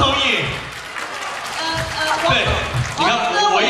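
Audience applause fills a hall, a steady wash of clapping that swells and dips, with a host's voice speaking over it.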